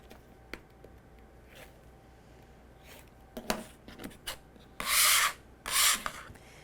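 Trimming a fabric quilt block unit: a few faint scrapes, then two loud, broadband rasping strokes about a second long each, close up with no talk.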